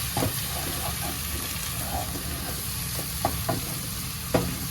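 A spoon stirs Kashmiri red chili powder into chicken masala frying in a pan, giving a continuous sizzle and hiss with a few scraping knocks of the utensil, close up and without speech.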